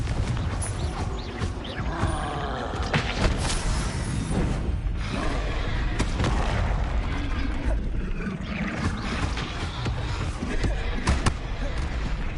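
Confringo blasting spell explosions in the Hogwarts Legacy video game, a busy stream of bursts, impacts and crackling effects, loud and continuous, with a voice calling out over the action.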